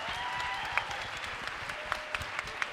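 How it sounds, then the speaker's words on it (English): A small crowd claps steadily, a dense patter of applause with a few sharper claps standing out, fairly near. "I'd love a round of applause for her."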